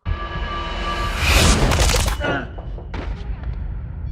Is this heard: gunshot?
yes